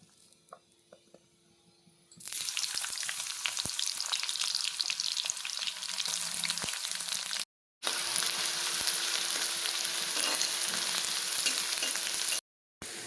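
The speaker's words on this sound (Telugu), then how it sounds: "ఉల్లిపాయ ముక్కలు అయితే వేగిపోయినాయి." Onion pieces frying in oil for a tamarind-leaf chicken curry, a steady loud crackling sizzle that starts abruptly after a quiet opening and runs continuously, broken by two brief silent gaps, with no talking.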